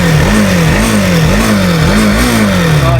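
A motorcycle engine revs up and down in steady repeated surges, loud and close, with a constant running drone underneath and no talking.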